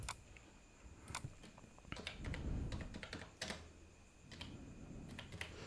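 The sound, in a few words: typing on a computer keyboard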